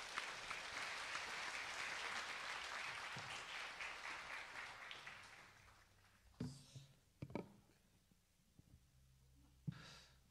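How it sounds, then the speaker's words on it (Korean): A church congregation applauds a speaker, a dense wash of clapping that gradually fades out, followed by a few isolated handling knocks and breaths in a quiet room. "우리 나오실 때 박수로 그냥 환영하도록 하겠습니다"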